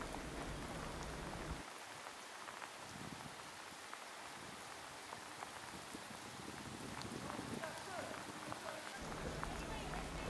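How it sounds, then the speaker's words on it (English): Steady rain falling outdoors, a dense, even hiss of drops on surfaces throughout, loud and close with a low rumble underneath at times. "Wow, from all the rain."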